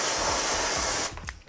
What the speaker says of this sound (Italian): spray per pulire i freni, una soffiata e un'asciugata.